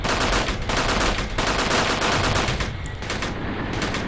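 An APC's machine gun in the video game Graviteam Tactics, set in an African tank battle of Operation Hooper, hammers out loud sustained bursts with short gaps, steady and close.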